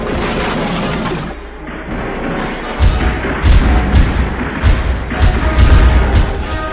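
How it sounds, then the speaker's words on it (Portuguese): Paraguayan cannon fire and shore musketry at the naval battle of Riachuelo, deep booming thuds rolling in one after another under a dense, loud wash of battle noise. "sob os tiros dos canhões paraguaios e da fuzilaria de terra"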